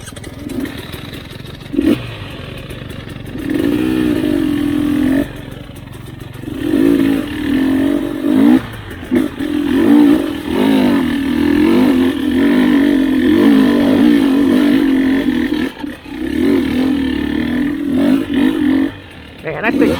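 A 2021 GasGas EC 300 dirt bike chugs at low revs on a tight swamp trail at NATRA Suzuki Swamp, a loud, uneven engine putter with brief blips and clatter, with riders talking over it.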